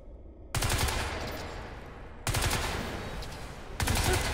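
Rapid automatic weapon fire in Crysis 3 during a nanosuit weapons tutorial, three loud bursts starting abruptly with short quieter gaps between them, close and dominant.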